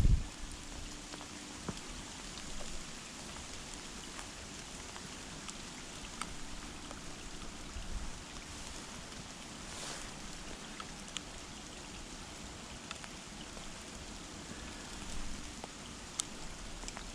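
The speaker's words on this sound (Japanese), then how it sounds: "雨が降ってますからね。" Steady rain falls outdoors beside a swollen river in a bamboo grove in Isumi, Chiba, a constant soft hiss of drops with faint scattered ticks throughout, no voices.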